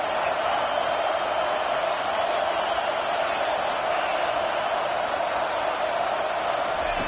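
A stadium crowd roars steadily in a college football video game, LSU at Texas, a dense, continuous wall of cheering that holds at a constant loud level throughout.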